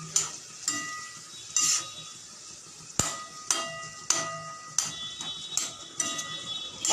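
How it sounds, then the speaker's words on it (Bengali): Spices with chili powder and a splash of water are stir-fried in a pan for a fish curry, with rhythmic spatula knocks and scrapes against the pan over a faint sizzle, close and fairly quiet. "তারপরে আমি মশলাগুলোকে কষাবো তা না হলে মশলাটা পুড়ে গেলে বিশেষ স্বাদ থাকে না"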